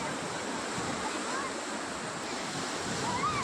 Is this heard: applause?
no